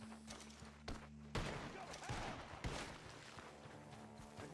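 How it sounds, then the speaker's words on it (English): Several sharp gunshots ring out from a barn in Red Dead Redemption 2, spaced irregularly over a steady low game hum, with sudden loud cracks standing out against the background. "Gunshots are coming from that barn!"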